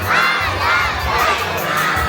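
Crowd at a K-pop show in Drayton Manor theme park cheers and shouts loudly and continuously, with high children's screams rising in waves over the din.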